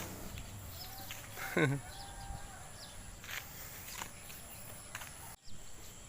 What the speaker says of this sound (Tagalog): kinukunan ko ng video yung kambing at saka tupa